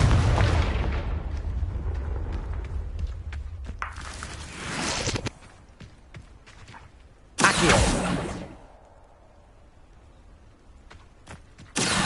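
Spell explosions in the Hogwarts Legacy video game: a long rumbling blast that fades, then two short loud bursts with booming tails, separated by quieter footsteps and ambience.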